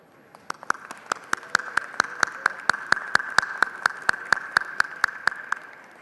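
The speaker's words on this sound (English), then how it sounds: "Thank you, members, for the round of applause" Lawmakers in the Texas House chamber break into a steady round of clapping, sharp individual claps in a brisk regular rhythm that swell slightly and then ease off, filling the hall with no talk over them.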